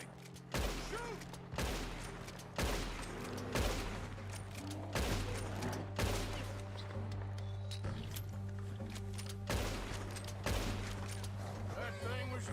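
Rapid gunfire rings out in Red Dead Redemption 2 as a bear is driven off, a string of loud, evenly spaced shots over a steady low hum, with voices talking and hoofbeats in the background.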